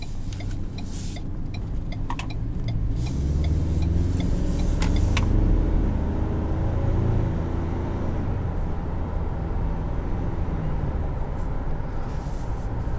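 A 2019 Ford Ranger Lariat with its turbocharged four-cylinder engine drives steadily, its low engine drone and road rumble continuous and fairly loud from inside the cabin, with no talking.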